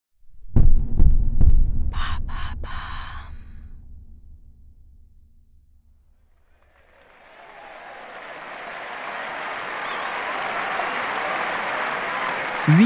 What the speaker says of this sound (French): La foule est en délire dans les gradins du cours central Philippe Chatrier.